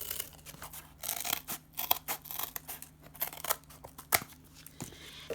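Scissors snip through a piece of cardboard in a run of irregular, crisp cuts and crunching tears, fairly close and with no talking.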